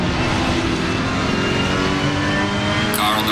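A Ferrari 458 racing around Silverstone in a video game, its engine a loud continuous roar that stays dense and steady throughout, with a sharper high burst arriving just before the end.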